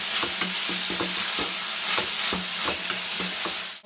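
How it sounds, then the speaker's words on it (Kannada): Ivy gourd (tondekayi) frying in oil, a dense, loud, close sizzle that stays constant, broken by repeated soft scraping knocks from stirring. "ಸ್ವಲ್ಪ ಎಣ್ಣೆನ ಫ್ರೈ ಮಾಡಿಕೊಂಡ್ರೆ ಸ್ವಲ್ಪ ಚೆನ್ನಾಗಿ ಕ್ರಿಸ್ಪಿಯಾಗಿ ಬರುತ್ತೆ ಪಲ್ಯ"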